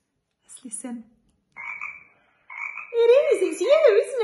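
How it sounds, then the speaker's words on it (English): A frog croaks in a few short bursts, then gives a longer, louder run of warbling, rising and falling calls, close and clear with no talking over it. "It is, it's you, isn't it? It's a frog."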